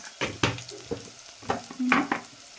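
Chili powder, coriander powder and tomato sauté in a pan, with repeated scraping stirs of a spoon over a gentle sizzle. The scrapes come in quick, uneven strokes close by.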